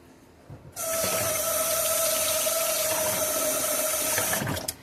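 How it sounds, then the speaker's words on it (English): Food cans are rinsed under a running tap, a loud steady rush of water starting abruptly and flowing continuously for several seconds with a faint ringing tone, ending with brief clattering. "I was rinsing my cans off, y'all."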